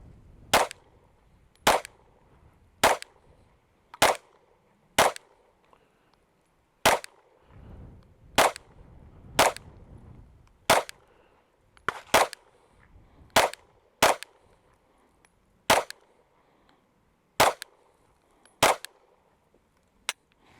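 Pistol shots at an outdoor shooting range, including a .45, fired one at a time in a steady, unhurried rhythm: about fifteen sharp, loud cracks with short quiet gaps between them and no talking.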